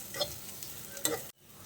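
Ginger, garlic and green chillies sautéing in a pan for a vegetable thoran, a steady soft sizzle with light stirring scrapes, close and alone, cutting off abruptly near the end.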